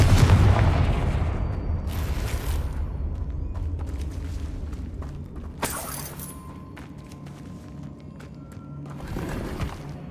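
Confringo spell blasts in Hogwarts Legacy go off as three heavy booms with bursts of crackling debris, separated by a low rumbling bed of battle noise.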